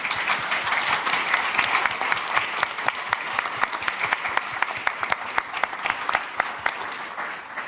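Audience applause for panelists at the close of a panel discussion on social dialogue and greening the economy, a steady roomful of clapping with distinct individual claps throughout, sustained and even for the whole stretch.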